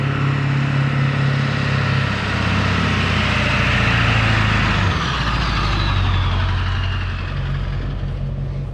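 A 1996 Ford Bronco dually with a 6.0 diesel engine drives along, its loud, steady engine drone heard from inside, with the pitch shifting as it changes speed partway through.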